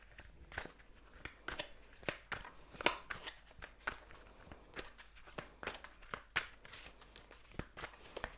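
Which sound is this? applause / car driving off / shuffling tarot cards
shuffling tarot cards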